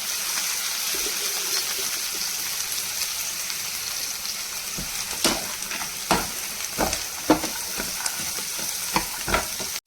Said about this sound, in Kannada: ಈ ಥರ ಫ್ರೈ ಆಗಬೇಕು ಈರುಳ್ಳಿ.